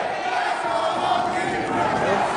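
Wrestling crowd at a House of Glory match, a loud continuous roar of cheering and chanting from a dense audience, steady throughout with no clear breaks.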